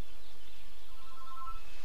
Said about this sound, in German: Lautes Telefon.